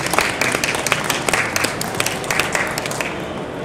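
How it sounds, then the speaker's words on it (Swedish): Audience applause for prize winners on stage at a photography fair's Grand Prix award ceremony, a dense, loud and steady spread of many hands clapping that carries on throughout. "då är det väl på sin plats att vi ger en stor applåd till vinnarna på scenen"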